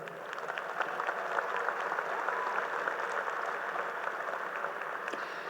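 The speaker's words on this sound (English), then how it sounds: "Give yourselves a round of applause." Parents and families applaud at a 2023 University of Hartford undergraduate commencement ceremony: a steady, dense wash of many hands clapping that holds evenly throughout without breaking.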